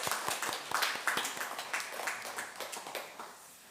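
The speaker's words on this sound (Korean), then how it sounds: "함께 박수 한번 하겠습니다" Applause from a small church congregation during a Sunday service, a burst of scattered hand claps in an irregular rhythm that thins out and fades over a few seconds.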